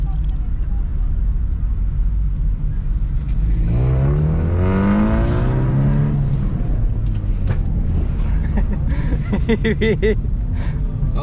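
A car accelerates hard on a road during Oulu night cruising, its engine note sweeping upward in pitch through the middle of the stretch, with people talking in the car over it.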